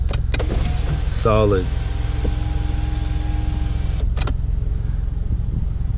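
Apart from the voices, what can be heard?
2012 Scion tC sunroof motor closing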